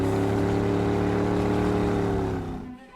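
A ferry's steady low engine drone with strong harmonic hum, loud and continuous, then fading away toward the end.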